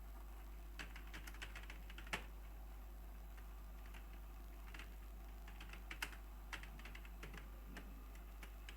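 Quiet computer keyboard typing during an MS Word tab-setting lesson, with scattered irregular key clicks and a few sharper taps over a steady low hum.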